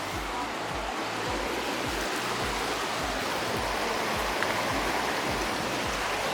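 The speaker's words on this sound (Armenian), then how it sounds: "Ես ուզում եմ, որ դուք էլ լսեք գետի ձայնը։" A river rushes and churns near a historic bridge, a loud, steady broadband roar of flowing water that fills the whole stretch without pause.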